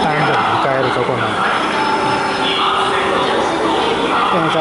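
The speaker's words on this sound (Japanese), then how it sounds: "電車到着しました。" A train arrives at a station, with a steady loud rumble of rail noise and a busy crowd murmuring throughout, voices mixed into the din.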